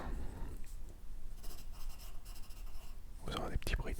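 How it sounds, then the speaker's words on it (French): Close, soft scratching of a pencil writing on small notebook paper, in short strokes through the clip, with faint whispering alongside. "Vous aurez des petits bruits de papier"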